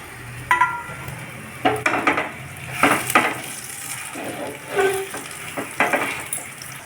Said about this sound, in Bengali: এবার মেস্ট করা আলুটাকে কড়াইতে দিয়ে দিচ্ছি।